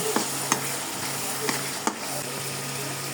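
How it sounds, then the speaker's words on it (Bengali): Ground spices with cumin powder fry in a pan, giving a steady close sizzle broken by a few sharp scrapes of a spoon stirring against the pan. "পরিমাণ মতো জিরা গুঁড়া দিয়ে মশলাগুলো একটু কিছুক্ষণ কষিয়ে নেব"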